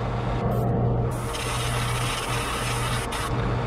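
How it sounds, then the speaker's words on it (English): A steady, continuous hiss of paint spraying from a nearby spray gun onto a fishing lure, with a low hum running underneath and brief dips in the hiss. "Give me a second to load this paint up and we'll get spraying."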